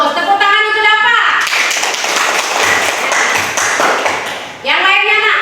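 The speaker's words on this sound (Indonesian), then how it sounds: "Tepuk tangan untuk Bapak" Students in a classroom lesson clap together in a short round of quick, close claps and taps, with voices speaking just before and just after the clapping.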